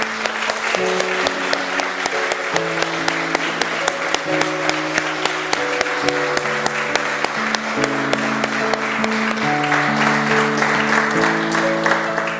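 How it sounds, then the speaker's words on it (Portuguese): A church congregation claps to praise the Lord during a Sunday service. The clapping keeps a regular rhythm over loud, sustained music with clear melodic notes, staying even and continuous throughout. "Vamos aplaudir o Senhor."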